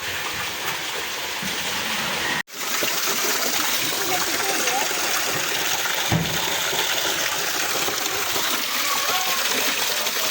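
A child splashes in a swimming pool at Duvvada, making continuous close water sloshing and splattering with voices under it, a brief dropout, and a thump partway through.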